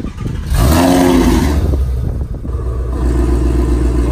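A 2019 Ford Mustang GT with the Performance Package Level 2 revs loud and close, its deep V8 rumble swelling into a rising roar, then settling into a steady idle growl.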